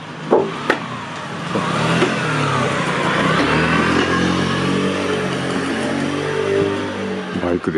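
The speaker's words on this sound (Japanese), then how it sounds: "バイクでした。" A motorbike passes along a road through a small terraced island village, its engine note rising and swelling to a steady mid-range drone and then fading, heard from some distance with faint ambient background.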